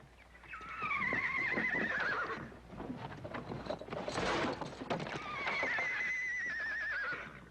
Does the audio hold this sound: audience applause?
no